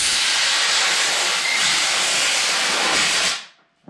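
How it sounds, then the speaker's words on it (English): A hair blower blasts air onto a Mahindra eMax 20S HST tractor's diesel fuel filter, a loud, steady close-up rush for over three seconds that then cuts off. "I'm gonna go use my hair blower to clean"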